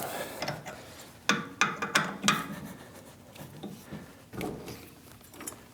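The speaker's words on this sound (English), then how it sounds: "Let's take off the 4-jaw chuck here." A 4-jaw chuck is worked off a metal lathe spindle, giving a quiet run of metallic clicks, clunks and scrapes with a few sharper knocks around the middle, close and otherwise fairly still.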